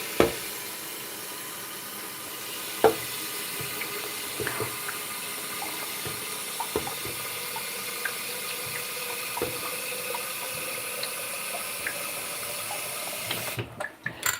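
A kitchen tap runs steadily into a sink to fill water for filtering, a soft continuous splash close by, with a few faint clicks and knocks and a brief clatter at the end.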